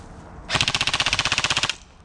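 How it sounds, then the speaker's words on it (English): A Specna Arms M4 airsoft electric rifle fires one full-auto burst of about twenty rapid, evenly spaced snapping shots. It lasts just over a second, close and loud, with quiet on either side. "Alright, now try full auto."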